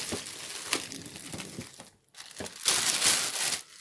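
Close, loud crinkling and tearing of plastic wrapping film as it comes off a Kingston HyperX Alloy Elite RGB keyboard, in uneven bursts with a short silent gap before a final louder rustle.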